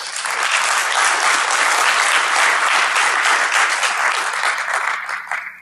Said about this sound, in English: small applause for him if you're willing